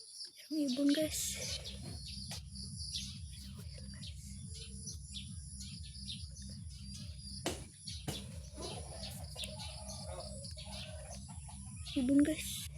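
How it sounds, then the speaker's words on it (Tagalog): Faint bird chirps come and go over a constant pulsing motor-like drone, with a few brief higher calls near the start and end. "Merong ibon guys."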